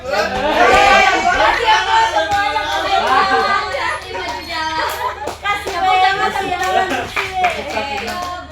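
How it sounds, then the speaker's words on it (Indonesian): Classroom applause: a class of children claps in rhythmic bursts, mixed with loud chatter and children's voices throughout. "Tepuk tangan."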